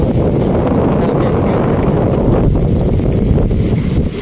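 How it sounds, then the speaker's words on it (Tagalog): Strong wind gusting across a beach resort shoreline in San Narciso, a loud, steady roar buffeting the microphone throughout with no pauses. "Grabe, lakas ang hangin ah."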